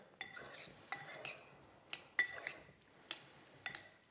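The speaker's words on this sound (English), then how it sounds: "And keep crushing and stirring and crushing and stirring." Metal utensil clinking and scraping in a pot while crushing and stirring cauliflower mash, a series of sharp irregular clinks over a soft background, close and fairly quiet.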